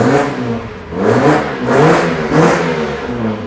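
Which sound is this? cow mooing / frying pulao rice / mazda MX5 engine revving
mazda MX5 engine revving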